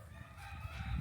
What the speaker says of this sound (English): I hear roosters.